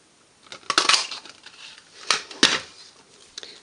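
A paper craft punch snaps through card for a mini book in two quick bursts, each a crisp clack and crunch with some rattling, near and fairly loud against a quiet room.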